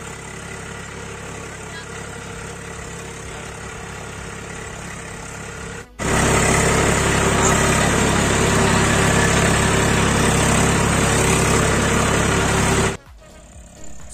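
Tractor engine on a village farm in Balod, Chhattisgarh, idling with a steady mid-range drone, then running much louder and rougher for several seconds before dropping back, close and continuous.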